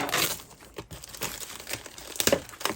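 Crinkling, tearing packing tape being pulled off a box wrapped in a whole roll of tape, holding an 11 LP vinyl record box set; close, scratchy bursts of crumpling and ripping with no talk.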